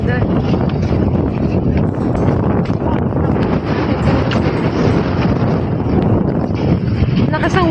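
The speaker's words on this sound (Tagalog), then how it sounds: "Ay, lakas ng wind." Strong wind buffets the microphone at Plaza de España in Barcelona, a loud, constant rumbling roar that dominates the scene, with a voice talking through it.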